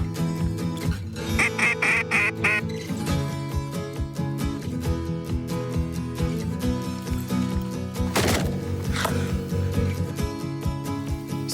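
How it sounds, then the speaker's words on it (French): Mallard ducks quack repeatedly in short, loud bursts, some rapid series of calls, close by in open fields with no talking. "par ses vocalises, José tente de séduire un duo de malards"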